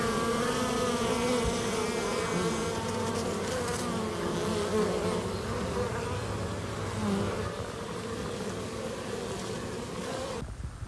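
Dense, steady buzzing of many honeybees at a hive entrance close by, a continuous droning hum that stays even throughout with no voices.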